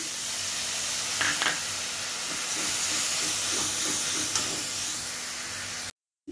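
Water poured into a hot pan of soybean curry sends up a loud, steady steaming hiss that runs almost without a break, with faint stirring clinks partway through before it cuts off abruptly.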